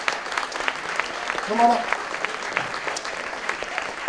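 An audience at a civic event honoring the city's inaugural poet laureate claps steadily in a warm round of applause, with a voice speaking briefly over it.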